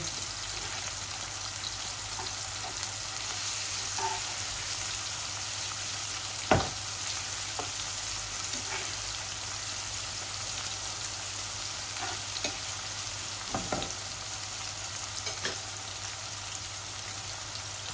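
Garlic frying in oil, a steady soft sizzle running throughout with a few faint stirring clicks and one sharper knock, close by and with no talking.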